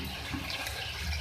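A cup of water poured into sizzling beef Afghani karahi in the pan, a steady rushing splash with broad hiss, close and fairly soft, without talk.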